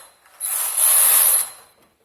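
A knitting machine carriage is pushed once across the needle bed while knitting a lace pattern, giving a single close, bright whirring slide of about a second that fades out.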